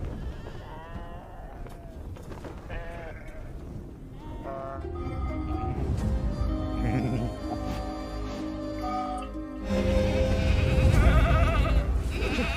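Goats bleat repeatedly in a wavering, scattered chorus at moderate distance, several calls overlapping amid outdoor farm noise that grows louder toward the end.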